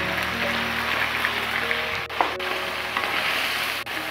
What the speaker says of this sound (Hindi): सबसे पहले हम अपनी वोक के अंदर ऑयल ऐड करेंगे, उसके बाद हम इसमें डालेंगे लहसुन, लहसुन को हल्का सा सौते करेंगे, इसके साथ मैं इसमें ऐड करी हूँ चिकन